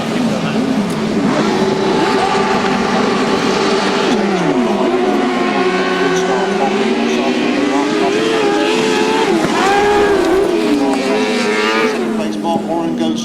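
Grasstrack sidecar race engines, loud high-revving whines that rise and fall as the machines race past, filling the whole stretch, with a public-address voice talking over them.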